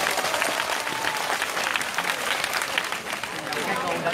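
A loud, steady round of audience applause filling a hall during a Vietnamese life-skills motivational talk, dense clapping that holds without a break.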